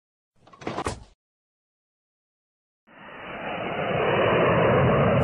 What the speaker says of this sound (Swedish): Flygplan.